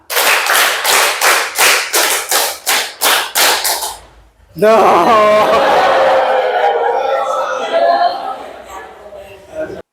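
A group claps in a counted rhythmic pattern, about ten sharp, evenly spaced claps in quick succession, loud and close. A pause follows, then someone speaks.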